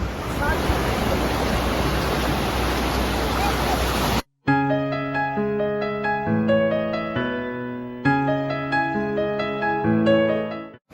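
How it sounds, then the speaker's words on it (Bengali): Sea waves breaking on the beach at Tajpur make a loud, steady surf roar for about four seconds, then the sound cuts off abruptly and music takes over. "সমুদ্রের ঢেউ আমাকে ধাক্কা মেরে ফেলে দিচ্ছে।"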